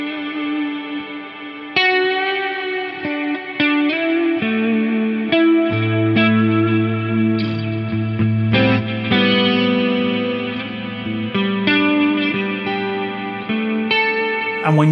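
A Harley Benton Fusion electric guitar with EMG pickups plays a continuous melodic line with sustained notes and bends, heavily processed with effects, distortion, chorus and reverb; loud and steady with no talking.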